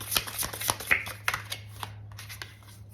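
Tarot cards are shuffled by hand in a quick series of crisp riffling and flicking bursts, close and fairly loud, with a low steady hum underneath.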